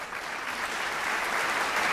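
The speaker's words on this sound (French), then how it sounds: "on l'applaudit" A studio audience at a French TV show applauds, with even, continuous clapping that builds slightly louder over the moment and no talk.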